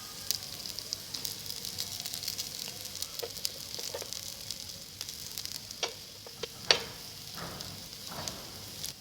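A potato Maggi snack fries in very little oil, giving a soft, steady sizzle broken by scattered pops and crackles, fairly faint and close, with no talking.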